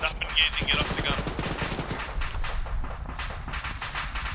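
Close, rapid bursts of machine gun fire from the ARMA 3 video game, dense rattling volleys that run almost without pause, with a voice talking over them.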